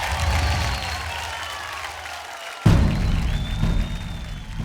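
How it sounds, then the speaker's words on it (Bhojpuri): A studio audience at a Bhojpuri singing contest show breaks into loud, sustained clapping, a dense wash of applause that jumps sharply in volume partway through and keeps going to the end. "जोरदार ताली"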